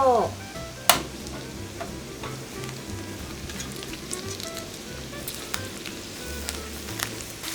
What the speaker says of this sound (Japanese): バター溶けたらここに人参と玉ねぎを入れて炒めていきましょう。